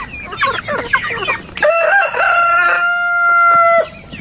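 Rhode Island Red chickens clucking in a rapid, busy stretch, then a rooster crows with a long, drawn-out call near at hand.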